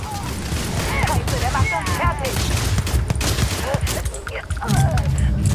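Pistol gunfire in the sci-fi shooter Starfield, rapid repeated sharp shots in quick bursts mixed with impacts and game effects, while someone talks excitedly over the action.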